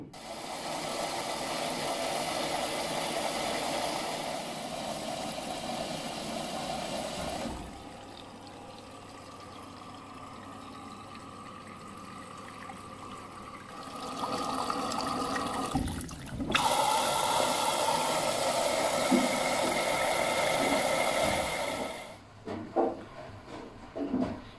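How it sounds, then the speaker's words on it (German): An Electrolux professional washing machine set to 40 degrees for a carpet wash starts up and fills with water, a steady rushing inflow with motor hum that drops, shifts and surges again before cutting off, close and without talk. "Und wir starten heute die Maschine auf 40 Grad"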